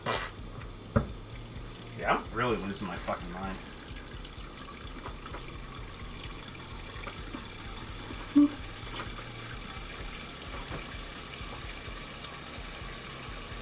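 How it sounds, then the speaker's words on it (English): A kitchen sink fills with water and soap, a steady low rush of running water under the room, with a few clinks and someone briefly talking over it. "just literally fill this with water and soap"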